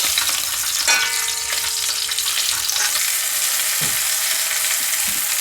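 Steady loud sizzling of an onion frying in a pan, with a few soft stirring scrapes near the end.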